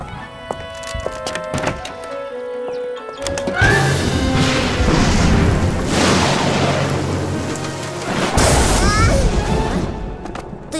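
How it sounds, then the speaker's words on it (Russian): Loud thunder crashes and rumbles over steady rain noise in the children's cartoon Turbozavry (Turbosaurs), with a character's voice briefly heard. "Гром — это всего лишь звук, его не следует бояться."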